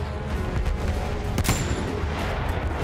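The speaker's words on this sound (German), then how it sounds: "Da wäre halt auch noch eine Kanone." Cannon firing in the Battlefield 1 video game: one sharp blast lands about halfway through, over a dense rumble of distant gunfire and battle noise.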